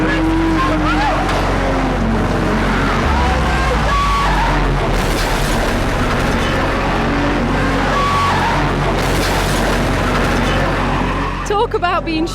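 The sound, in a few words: race cars driving in a crash-test race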